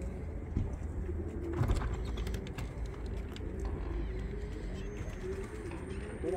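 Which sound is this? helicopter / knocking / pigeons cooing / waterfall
pigeons cooing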